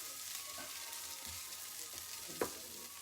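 Onions, ginger and garlic sweating in a pan make a quiet, steady sizzle with one soft clink near the end, faint and close with no voices.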